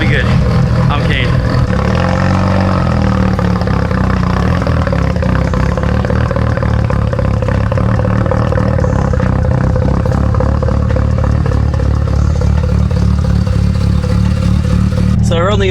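A Mazda RX7 FD street car fitted with a two-way differential driving out onto the road, its engine droning loud and steady from inside the cabin with clatter and road noise, while a person talks over it.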